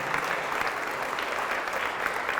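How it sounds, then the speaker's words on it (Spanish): A church congregation claps together after a scripture reading at a Catholic service, a steady, evenly sustained round of applause filling the room. "Fuerte este aplauso a la palabra de nuestro Señor y Salvador Jesucristo."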